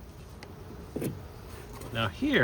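Honey bees buzz faintly and steadily inside an open beehive during a brood inspection, a low constant hum under brief speech from a nearby person.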